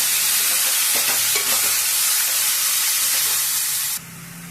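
Half a kilo of chicken cooking in oil in a covered pan for chicken curry, a loud steady hiss of sizzling and steam with faint stirring knocks, close by, dropping sharply in level near the end.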